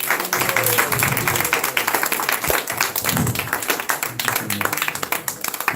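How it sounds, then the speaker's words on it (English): Audience at a Sunday gathering in a temple hall clapping, a dense, continuous round of applause lasting several seconds, fairly close and loud throughout. "Please give a big round of applause to Maharaj."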